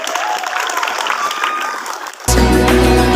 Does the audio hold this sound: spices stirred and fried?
no